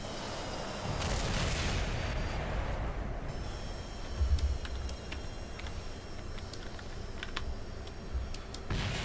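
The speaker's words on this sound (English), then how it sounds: "just a hail of gunfire" Scattered sharp cracks of gunfire in Kerbal Space Program with the BD Armory mod, rapid and irregular over a rumbling background, with a louder thump partway through.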